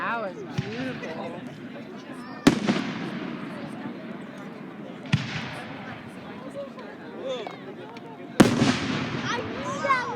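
Fireworks exploding outdoors: several sharp loud booms spaced a few seconds apart, with crackle and echo between, while people talk and react nearby.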